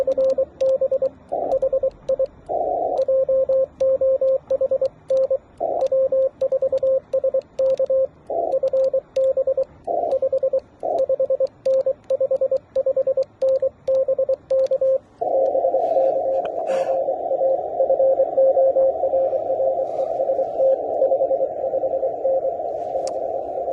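Morse code comes over amateur radio as a steady tone keyed on and off in dits and dahs for about fifteen seconds, then one long continuous tone, loud and clear with no talk.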